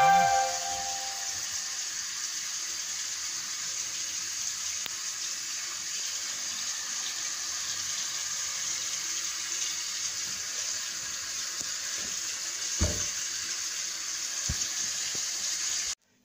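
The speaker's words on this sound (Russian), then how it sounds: "Помыла посудку." Tap water runs steadily into a sink with a constant hiss while dishes and pots are washed, a few light clinks of dishes breaking through near the end.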